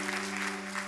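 A church congregation applauding together, a brief dense burst of clapping over a steady sustained tone from the sanctuary sound system.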